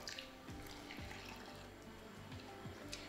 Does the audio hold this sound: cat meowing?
no